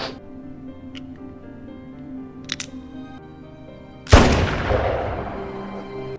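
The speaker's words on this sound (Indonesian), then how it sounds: "ternyata peluru itu meledak di tangan Ramos." A bullet bursts in a man's hand in a film scene: after quiet moments with a couple of faint clicks, one sudden loud sharp bang rings out and decays into a noisy tail.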